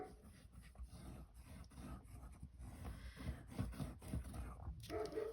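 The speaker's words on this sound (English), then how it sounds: "Sorry about the dog, guys." A dog pants and gives a few barks and whimpers indoors, faint and close, with rustling and tapping of craft work around it and a louder bark near the end.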